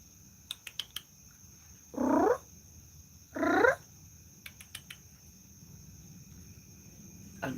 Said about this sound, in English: Can you hear him meowing? Might be the mother calling him back.